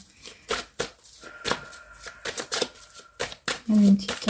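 Tarot cards being shuffled by hand, with repeated crisp riffling and slapping bursts close by, while someone speaks at the same time.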